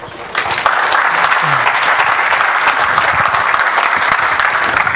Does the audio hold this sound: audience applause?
yes